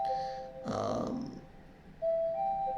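A two-tone doorbell chime rings in a short ding-dong, sounding once near the start and again about two seconds later, with a brief murmur of voice between the tones.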